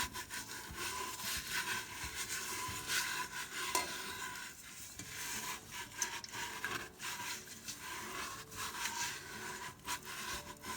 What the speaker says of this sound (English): I'm gonna try and scrub this off the bottom.